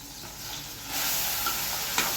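Milk poured into hot ghee gives a quiet hiss that jumps to a louder, steady sizzle partway through, with a small pop near the end. No voices.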